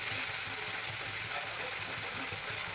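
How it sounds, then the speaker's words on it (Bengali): Spice paste frying in oil during koshano for a kalai dal paturi dish: a continuous hiss and sizzle with a steady low hum beneath, unchanging and fairly quiet throughout, with no talking. "এখন মশলাটা সুন্দর করে কষিয়ে নেব।"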